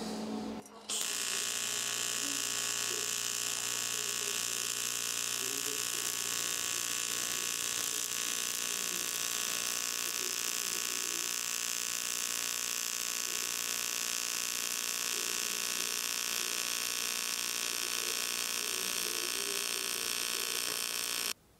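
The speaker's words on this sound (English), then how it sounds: "Let's drill a couple of holes." A small electric drill boring holes in cleaned fuel tanks, whining steadily at a constant pitch for about twenty seconds after a brief start, close and continuous.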